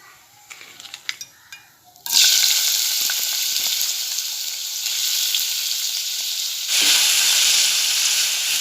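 Chopped onions drop into hot oil in a frying pan on a gas stove, setting off a sudden loud, bright sizzle that carries on steadily and then surges again near the end, after a few quiet clinks beforehand.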